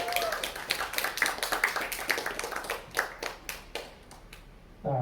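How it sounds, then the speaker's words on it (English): Audience claps at a college stage hypnosis show, a thinning patter of individual hand claps that tapers off toward the end before a voice cuts in at the close. "give them a nice big round of applause"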